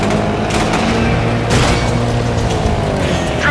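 Explosions and engine roar from a car stunt sequence in the video game Stuntman Ignition, a dense loud wash of rumbling blasts and motor noise with a sharper burst midway, no talking.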